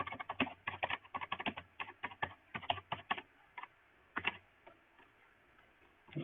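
Quiet, close computer keyboard typing in quick irregular bursts of clicking keys, pausing briefly before a last few taps.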